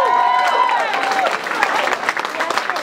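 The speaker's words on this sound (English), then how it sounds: "So let's give her a big round of applause." A crowd at a celebration for a Minnesota state representative election win claps, the applause starting thick and then thinning into scattered claps, with voices and cheering mixed in.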